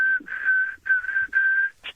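A person whistles a clear, steady tone in three sustained notes with short breaks between them, followed by a brief higher blip, close and alone.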